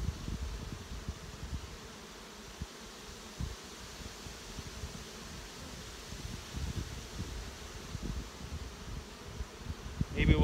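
Honey bees buzz around an open hive outdoors in a continuous soft drone, faint overall, with occasional louder passes close by and light rustling, without speech.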